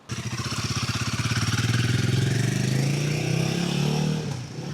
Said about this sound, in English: second test ride for Leon with the medium dark smoke screen to see if the wind will blow over his head instead on his head